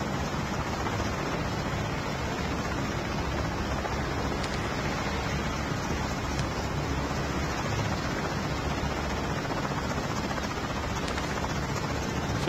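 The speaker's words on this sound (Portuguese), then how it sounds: "acho que ele parou o helicóptero" A helicopter roars steadily in the mobile shooter Call of Duty Mobile, a dense, continuous rotor wash with no break or change, loud and close, with no speech.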